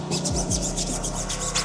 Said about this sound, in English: Use our brush to agitate it. Get the lug nuts. Come through with our detail factory brush.